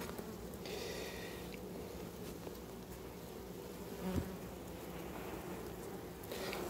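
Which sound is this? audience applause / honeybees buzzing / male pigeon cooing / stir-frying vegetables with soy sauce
honeybees buzzing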